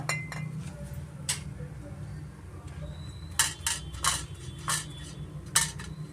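Metal idli plates clink and clatter as they are greased with oil in a kitchen, with several sharp, bright knocks spaced irregularly over a steady low hum, close and moderately loud.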